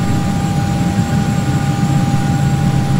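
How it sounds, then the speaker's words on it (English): A Hawker 850XP jet taxiing toward the runway in a flight simulator gives off a steady engine roar with a low rumble and a thin constant whine, loud and unchanging, with no speech. "Just a short little taxi here to the end of the runway, and we'll be out of here pretty soon."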